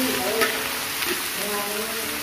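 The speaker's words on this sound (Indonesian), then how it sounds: "sekarang saya akan tumis bumbu halus untuk daun singkong tumbuknya" Ground spice paste for a pounded cassava leaf dish from Dayak Kalimantan sautés in a pan, giving a steady, close, dense sizzle and crackle that holds evenly from start to finish.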